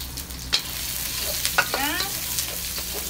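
Garlic stir-frying in a wok sizzles with a steady crackle, broken by a few sharp scraping clinks of the utensil against the pan.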